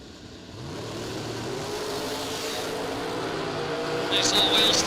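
An '89 Camaro and a '72 Chevelle launch side by side at a drag strip, their engines revving in a rising roar that swells louder toward the end, under an announcer's talk.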